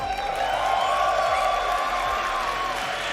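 A large live esports crowd at a Dota 2 Major main stage in Stockholm, applauding and cheering as a steady, dense roar throughout, with a voice talking over it.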